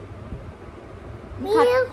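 A child imitates a cat's meow with one short, rising-then-falling call near the end. It is close to the microphone and follows quiet room noise.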